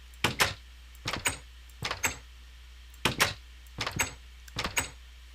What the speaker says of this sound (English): This is the door and chest sound right here.